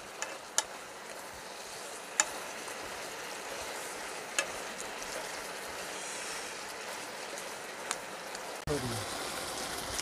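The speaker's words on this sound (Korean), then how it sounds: "약불에 계속 굽겠습니다." Steady, low sizzling of chicken frying gently in a pan on low heat, with a few faint clicks and a light knock near the end.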